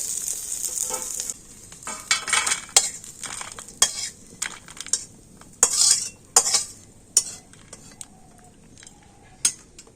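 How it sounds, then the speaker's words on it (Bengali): Dry fruits frying lightly in ghee in a pan, a soft sizzle under repeated sharp clinks and scrapes of a metal spoon stirring against the pan, the knocks coming irregularly and alone. "ঘিয়ের সাথে ড্রাই ফ্রুটগুলো একটু হালকা করে ভেজে নেব"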